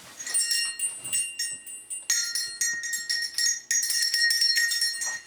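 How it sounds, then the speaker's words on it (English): Several trail bells on horse riding and pack saddles jingle and ring together, bright metallic tones of differing pitch clanking unevenly in overlapping bursts, close by with no voices. "We carry bells on all of our riding saddles, have all bells, our pack saddles."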